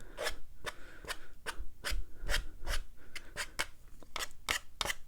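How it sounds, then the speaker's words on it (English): A credit card edge scrapes across wet watercolor paper to form grass in an abstract landscape, giving a rapid series of short, crisp rasping strokes in an uneven rhythm, close and clear with no talking. "depending on how big your credit card is, nice big scratches of grass"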